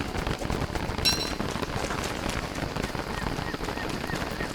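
Steady rain falling in the video game Don't Starve, a continuous hiss of drops with a brief sharper call or honk early on, loud and unbroken throughout.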